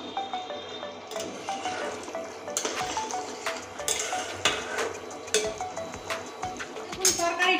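Spiced vegetable curry stirred in a metal pan, with a spoon scraping and clinking against the sides in repeated strokes over a soft sizzle, close and fairly steady throughout.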